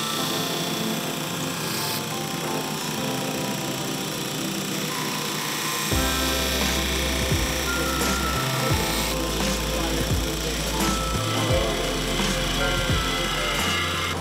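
A stag-handled pocket knife with silver fittings is polished on a power buffing wheel in a knife-making shop, giving a steady close whirring grind with heavier rubbing pressure from midway on.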